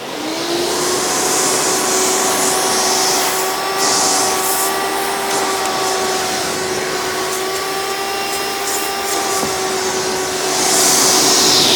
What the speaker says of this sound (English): because this is a direct air-based vacuum, and they tend to produce more airflow than they do suction.